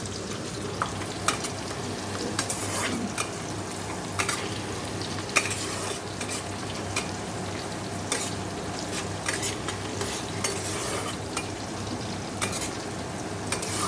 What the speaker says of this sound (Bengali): তেলের মধ্যে গোটা গরম মশলা জিরে শুকনো লঙ্কা ফোড়ন দিয়ে পেঁয়াজটা ভাজা হচ্ছে